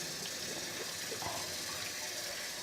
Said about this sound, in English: So I'm just going to wash this bowl